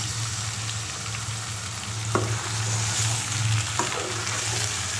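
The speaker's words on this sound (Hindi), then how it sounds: "अब इसमें पहले मीट डाल देंगे, इसको अच्छे से भून देंगे।" Chicken meat frying for biryani, a steady loud sizzle as it is stirred, with a couple of sharp spoon knocks against the pot and no voices.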